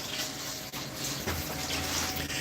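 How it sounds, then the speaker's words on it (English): Water poured from a container into a mixing bowl for pizza dough, a steady continuous splashing pour, close and fairly loud, with one brief dip partway through. "So water's going in."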